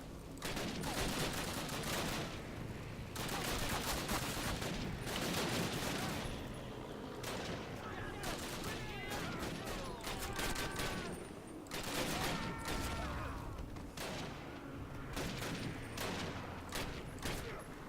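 Gunfire in the video game Call of Duty: a dense, continuous volley of sharp shots and bursts layered over a busy battle din, with short lulls between clusters, while players talk faintly underneath.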